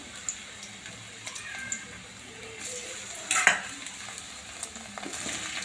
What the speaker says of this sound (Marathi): अशा प्रकारे आपल्याला फन्नस फ्राय करून घ्यायचे आहे